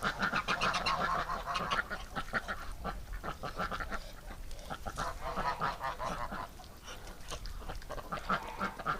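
Geese honk loudly and persistently close by, mixed with the calls of Muscovy ducks in a busy winter flock, with the noise rising and falling throughout.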